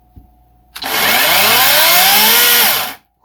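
A battery-powered chainsaw is test run in the Arizona high desert, starting abruptly and holding a steady high whine for about two seconds before cutting off, loud and close with no talk.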